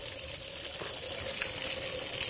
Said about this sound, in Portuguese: Agora vou fazer, jogar uma água para ver.